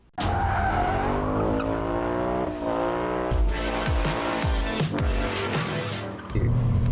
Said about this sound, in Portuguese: Uma manobra como essa, que a gente chega a quase 100 km por hora, às vezes na casa de 70, 80